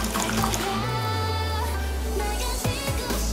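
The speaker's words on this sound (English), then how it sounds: "I'm gonna pour about 2 cups of this hot pork broth into the" Hot pork broth for a spicy Sichuan ramen is poured into a bowl, a continuous close liquid splashing and gurgling with a low rumbling undertone throughout.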